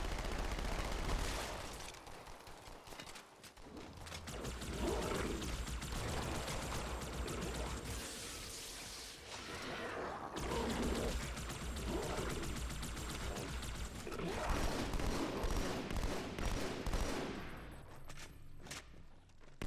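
Gunfire in the Halo 2 video game: dense, continuous bursts of rapid automatic fire and shots running throughout, loud and close, with thuds mixed in.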